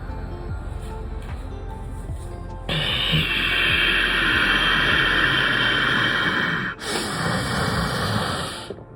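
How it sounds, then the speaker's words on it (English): Ujjayi ocean breath is drawn through the nose during yoga instruction for mountain pose, heard as one long, close, raspy rush of air lasting a few seconds between quieter stretches. "So it's basically you make a sound like this."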